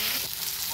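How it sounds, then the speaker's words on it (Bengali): Potatoes and pointed gourd sauté with spices in a pan, giving a brief, dense, loud hiss of sizzling frying close by. "ভালো করে মশলা দিয়ে কষিয়ে নেব আলু পটল।"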